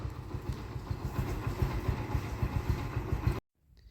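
A motorcycle bought around 2013-14 idles while parked at a farm field, its low engine throb pulsing in a steady rhythm close by before it cuts off abruptly near the end.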